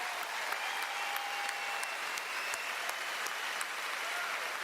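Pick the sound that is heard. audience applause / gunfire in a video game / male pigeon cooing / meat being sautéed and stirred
audience applause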